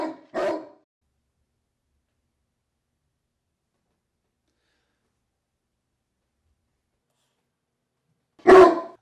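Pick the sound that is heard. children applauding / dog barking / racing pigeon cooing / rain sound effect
dog barking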